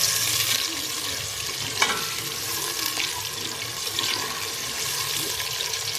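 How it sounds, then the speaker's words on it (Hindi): Potatoes frying in ghee for aloo baingan, a constant dense hiss and sizzle lasting throughout, close and fairly loud, with one brief clink partway through and no speech. "तो आलू हमारे फ्राई हो रहे हैं"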